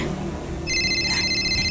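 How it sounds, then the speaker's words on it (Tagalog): A cellphone rings in an indoor comedy scene: a steady electronic ringtone with bright repeating tones starts partway through and continues over low background noise. "Ay pa'y nag-ring to'y cellphone."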